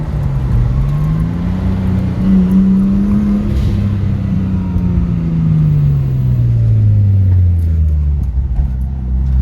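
A car pulls hard along a freeway while racing a Lamborghini, its loud, close engine drone climbing and falling in pitch over a continuous road rumble.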